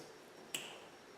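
A single attempted finger snap with rings clicking together gives one sharp, faint click in a quiet room.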